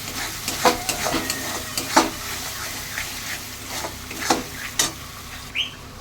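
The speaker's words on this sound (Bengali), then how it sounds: "এটা আমি একটু ভালো করে কষাবো।" Spice paste with ground nuts and turmeric frying and being stirred in a pan for prawn malai curry, a continuous sizzle with repeated rhythmic spatula scrapes and taps close by, without talking.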